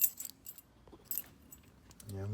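Freshly cut keys for an antique Hurd oval latching deadbolt jingling and clinking in hand, a few bright metallic rattles between quiet pauses, ending with a brief voice.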